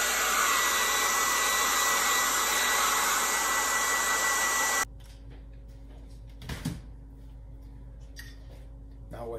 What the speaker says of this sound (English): if I'm in the studio, I use a hairdryer.